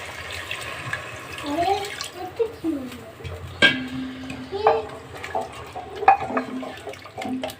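Liquid is poured into a pan of spicy chicken and potato bhuna. It makes a close, gurgling splash with bubbling and trickling that rises and falls in bursts over a soft simmer.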